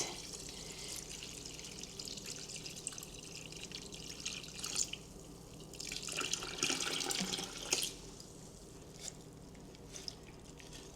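Tap water runs and splashes steadily over sanitized strawberries in a fermenting container for a six-gallon batch of strawberry wine, a continuous close pour with a louder surge midway.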